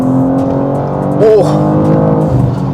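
A 2025 BMW M2 with a six-speed manual pulls hard in M1 mode, its engine droning loud and steady with a brief rising rev flare at the midpoint.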